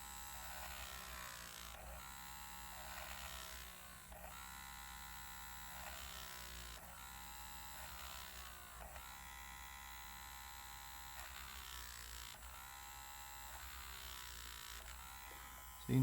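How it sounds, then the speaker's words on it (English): Dremel Micro pet grooming rotary tool drilling plastic at slow speed, a steady high whine with hum, dipping briefly every two seconds or so across a long run, with no talking. "This is a dog Dremel Micro, so this is like meant for grooming dogs'"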